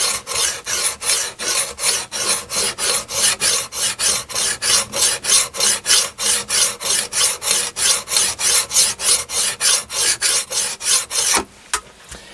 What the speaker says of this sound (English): You can actually hear it cutting or sharpening that axe